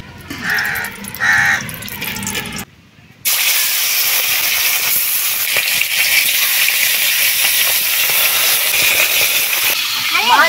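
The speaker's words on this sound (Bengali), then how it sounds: "এবারে মাছ ভাজবো, দিয়ে দিচ্ছি কড়াইতে সরষের তেল।" Fish rubbed with salt and turmeric frying in mustard oil in a kadai wok: a loud, steady hissing sizzle that runs continuously after a short pause, with crows cawing and a voice heard briefly before it.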